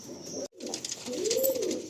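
Several pigeons kept in a loft near Jayantapur and Nepalganj coo in soft, overlapping low phrases, close by, with a brief gap of near silence early on.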